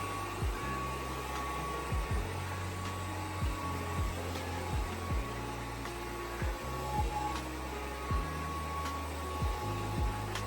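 A UWANT D600 cordless wet dry vacuum in smart mode whirs steadily throughout with a broad airy hiss, punctuated by regular low thumps every second or so, close by with no talking.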